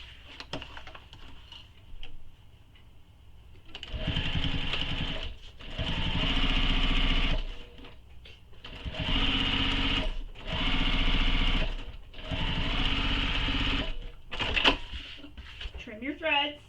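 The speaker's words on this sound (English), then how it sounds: "I'm going to sew this edge just as we did the left hand edge" A sewing machine stitches along the edge of a Kayla commuter tote bag in a series of steady motor bursts with short pauses between them, close and loud, with a voice talking at times.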